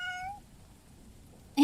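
A cat in a spooky video game gives a short, clear meow at the start, followed by near silence and a brief sharp sound right at the end.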